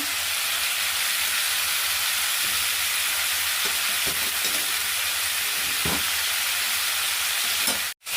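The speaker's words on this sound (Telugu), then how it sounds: "ఆవాలు వచ్చి కొంచెం వేసుకుంటున్నాను మెంతులు వచ్చి కొన్ని వేసుకుంటున్నాను" Mustard and fenugreek seeds sizzle in hot oil, a steady, close hiss of frying with a few faint pops, ending abruptly with a brief clatter.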